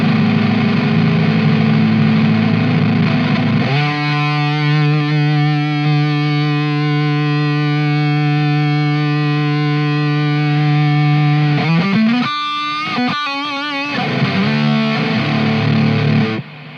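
Electric guitar through stacked Boss HM-2 and HM-3 distortion pedals, heavily distorted, holds a thick, buzzing sustained chord, then shifts through a few quick choppy notes near the end, loud and noisy.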